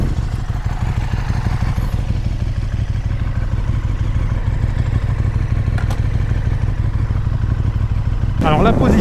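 A KTM 1290 Super Duke motorcycle engine rumbles steadily and close, with a throbbing low pulse and mechanical clatter sustained throughout, ending in a sharp burst of noise.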